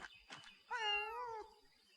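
Cat in the video game Pentiment giving a single drawn-out meow after a couple of short soft chirps, close and clear against a quiet background.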